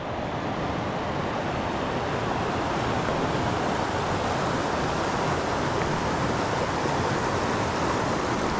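Water rushing over stones in a mountain stream in the Carpathians, a steady, dense broadband roar that stays constant and fairly loud throughout with no talk.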